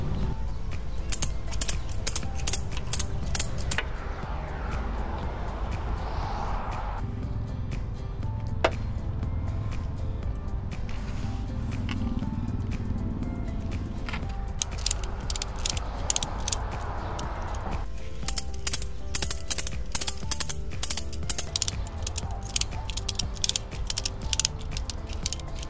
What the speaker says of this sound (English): now we start planning out our ratchet straps